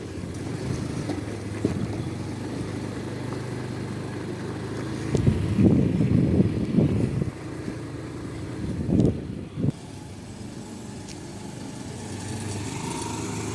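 Scooter ridden at a slow, steady speed along a road, a continuous low engine hum with a few louder bumps and rattles midway, heard from the rider's position without talk.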